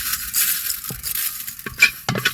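Dry fenugreek seeds rattle and crackle in a hot pan, with soft stirring scrapes and a few light metallic clinks.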